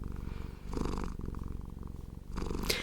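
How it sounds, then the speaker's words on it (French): Close, heavy purring from a cat, a steady low rumble rising and falling with breaths, ending with a brief brighter rustle. "Et là, on est sur du ronron, du bon gros ronron fort,"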